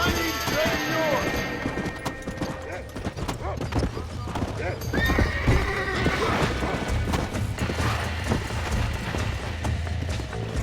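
A horse whinnies loudly over steady hoofbeats and crashing game effects in Red Dead Redemption, during a shootout in Armadillo, with a dense, busy mix throughout.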